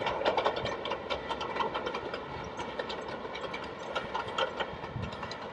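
A small train on the St Erth to St Ives branch line along the Cornish coast clatters steadily past, with a continuous rattling, ratchet-like rumble of wheels and carriages and no talk.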